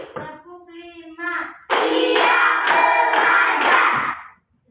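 Schoolchildren in a primary classroom clap their hands together on the final count, a sharp, loud burst of group clapping that follows a short spoken call and then stops abruptly into silence.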